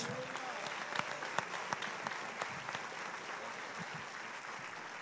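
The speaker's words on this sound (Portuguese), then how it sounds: "Dê um aplauso ao Senhor Jesus." A church congregation claps during a sermon, a fairly faint, spread-out patter of applause with a few distinct sharp claps and murmured voices in the room.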